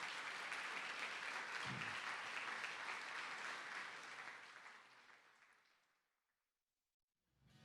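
Applause for sports hall of fame inductees at a high school playoff football event, a dense crowd clapping steadily for several seconds before fading out to silence.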